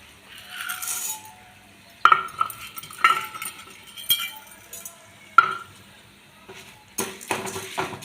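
Urad dal and chana dal fry in oil in a pan for tomato chutney, giving a soft crackling sizzle broken by several sharp clinks of a spoon against the pan.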